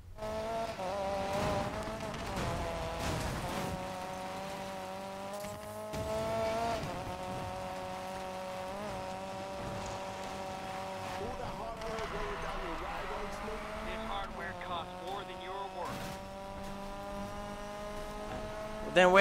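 Race cars in Need For Speed Payback roar with engine revs rising and falling and occasional tire squeal, loud and continuous throughout, with someone talking over the driving.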